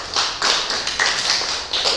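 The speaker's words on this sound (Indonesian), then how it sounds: "tepuk tangan" An audience at a youth Christmas church service claps for a performer, sustained applause with fluctuating intensity, fairly close and with no talking.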